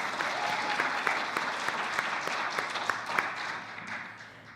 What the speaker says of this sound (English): Let's give Nick a good round of applause